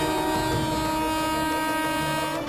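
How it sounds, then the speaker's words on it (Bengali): A train approaching on a railway line in a TV crime drama scene, a steady loud rumbling roar with a sustained tonal drone, continuous and near throughout. "ট্রেন আসছে ভাই।"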